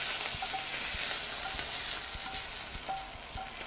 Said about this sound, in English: So now I'm going to add the meat to the onions, garlic.